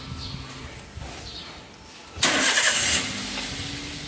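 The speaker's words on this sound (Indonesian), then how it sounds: "Untuk sebelumnya kita nyalakan dulu engine-nya." A 2014 Daihatsu Xenia R Deluxe car engine cranks and catches, a loud broadband burst that eases into a steadier idle hum after a quiet stretch, close by.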